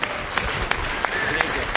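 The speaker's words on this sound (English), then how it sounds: "Please give a big round of applause again for Kevin." A conference audience applauds the motivational speaker Kevin Abdulrahman, a steady wash of clapping with a few sharper peaks, while a voice speaks over it.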